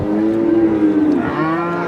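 Cattle at a village livestock market moo in one long, loud, drawn-out call that fills the moment, with no talk over it.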